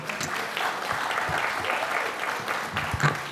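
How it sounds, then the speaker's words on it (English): An audience at a harm reduction conference's closing plenary claps for the panelists, a full, sustained round of applause with dense overlapping claps and a few louder hits near the end. "Can we give a round of applause to our panelists?"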